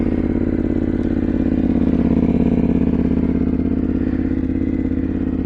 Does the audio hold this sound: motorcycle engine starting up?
yes